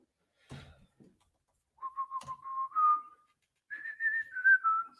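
A person whistles a short song alone, a few steady sustained notes rising in pitch, clear and fairly close, preceded by faint soft knocks.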